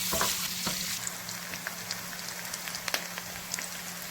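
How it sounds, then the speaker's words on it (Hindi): Chopped onions fry in a pan for a spiced potato curry, giving a steady close sizzle with faint crackles and a few stirring clicks throughout, with no voices. "ये प्याज शामिल कर रहा हूँ। प्याज को हम लोग सिर्फ मामूली से जो है ये हल्के हल्के से नरम हो जाए तो हम उसको जब तक ये फ्राई करेंगे।"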